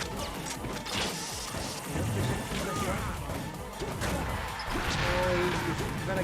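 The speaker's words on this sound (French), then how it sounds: "Je crois qu'il y a un shield break." A shield breaks in a Super Smash Bros match between Snake and Ganondorf against Captain Falcon, with crunching impact and crash effects over busy game audio. An excited commentator talks throughout.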